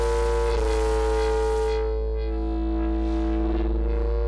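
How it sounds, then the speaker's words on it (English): A heavily distorted PolyBrute 12 synthesizer holds a thick, buzzing sustained note, loud and continuous, with harsh fizzy overtones that thin out partway through. "that moment where it's too much distortion and it doesn't make sense anymore"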